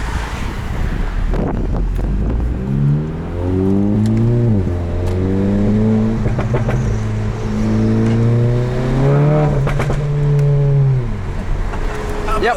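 Tuned APR Stage 2 2015 Volkswagen GTI driven with the windows down: loud, steady engine drone rising and falling through several gear changes with quick DSG shift breaks, over wind buffeting.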